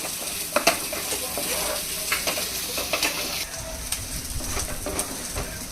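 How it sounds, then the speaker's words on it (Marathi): Masala stir-fried in oil in a pan for a tandoor fish curry, a steady loud sizzle with scraping stirs of the spatula close up, no talking. "आता आपण हा मसाला याच्यात टाकून घेऊया मसाला टाकून परतून घेऊ"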